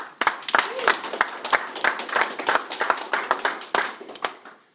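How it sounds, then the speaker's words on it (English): Graduating airmen and guests at a USAF technical school graduation clap together in a loose, rhythmic burst of individual hand claps, fairly close and lively, with a few voices mixed in around the clapping. "give them all a hand"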